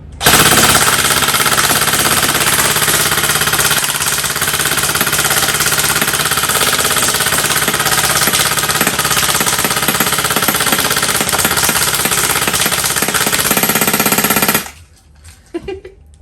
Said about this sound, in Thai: มันคือปืนกลดี ๆ นั่นเองนะครับ ลูกกระสุนขึ้นไม่ขาดเลยนะ